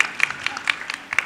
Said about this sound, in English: we would like to give a big round of applause for one more time